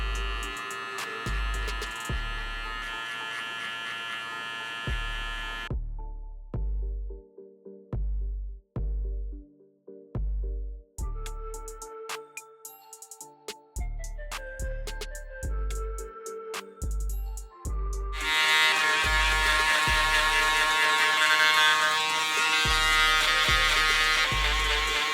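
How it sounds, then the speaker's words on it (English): Electric shaver cleaning up a man's neckline and sideburns after a fade haircut, a close steady buzz that cuts in and out in short bursts between pauses, with a longer continuous stretch at the end. "I'm gonna come in with my shaver and just clean up the neckline and the sideburn area"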